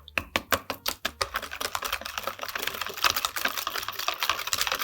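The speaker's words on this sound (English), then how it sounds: "Now we're gonna whisk that all together." A whisk beats mayonnaise, herbs and avocado oil into a dressing in a bowl, with quick, close tapping strokes that start spaced and then blur into fast, continuous clicking.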